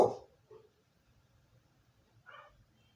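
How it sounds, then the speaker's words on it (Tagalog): Dogs bark outside. One sharp, faint bark comes at the start, a softer yelp follows, and another brief bark comes a couple of seconds later, all over a quiet, low background hum. "May kahulan na naman sa labas."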